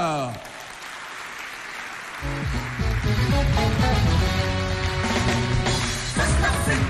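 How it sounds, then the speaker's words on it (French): A crowd at a women's festival show applauds to welcome a government minister onstage. The clapping rises and grows loud partway through, mixed with music that kicks in and some speech. "Et sous vos applaudissements, nous allons accueillir Madame la ministre Ramatou Mamato Outouin"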